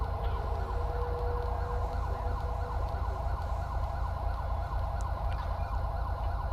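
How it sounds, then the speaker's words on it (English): Wailing video game emergency vehicle sirens sweep up and down steadily over a constant low engine rumble, with no voices. "that'd be the lights and sirens that I keep on hearing"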